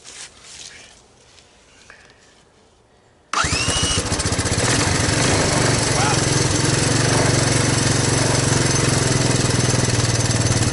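A Honda ATC200ES three-wheeler with a waterlogged history cold-starts abruptly after a quiet stretch with faint handling noise, then runs at a loud, steady idle with a rough, buzzy single-cylinder rattle close by.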